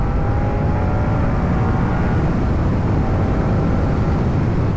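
Moto Guzzi V100 Mandello V-twin motorcycle engine drones loudly and steadily throughout, a dense continuous roar mixed with heavy wind rush as the bike pulls through its rev range.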